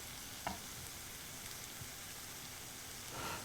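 Burger sliders sizzle steadily on a Star Pro-Max Sandwich Grill, a soft continuous frying crackle with a few faint pops and light scraping, heard alone without talk.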